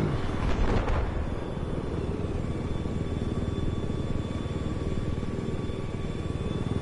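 Steady, loud helicopter rotor and engine drone from a Battlefield 4 game chopper rising in flight, a continuous buzzing roar with a brief swell near the start.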